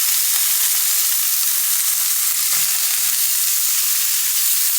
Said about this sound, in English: I'm gonna flip this one over. Let it sear on that side.